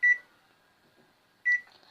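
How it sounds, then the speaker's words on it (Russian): A microwave oven heating a chocolate mug cake gives two short, bright beeps about a second and a half apart, with a faint hum between them. "Тоже я ставлю в микроволновку. Закрываем. Ставим на 2 минуты."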